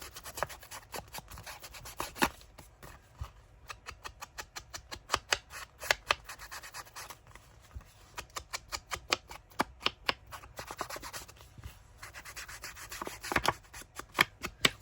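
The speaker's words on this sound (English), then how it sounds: "Tim Holtz's paper just sands like a dream" Tim Holtz paper being sanded by hand for a junk journal craft: quiet, rapid scratchy rubbing strokes in steady bursts, close and alone without talk.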